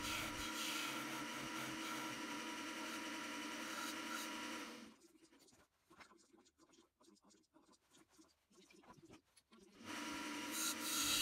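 Hand tool carving a lid recess into a wooden box, a steady loud scraping and rasping for several seconds, then broken into short, quieter scrapes with gaps before the continuous cutting returns.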